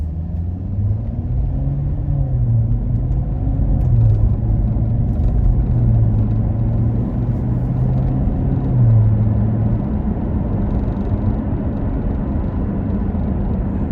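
A Chevrolet C7 Corvette Grand Sport with a 6.2-liter V8 and eight-speed automatic transmission, driving. Its low engine drone continues steadily throughout, with the note rising and falling slightly through gear changes. No one speaks.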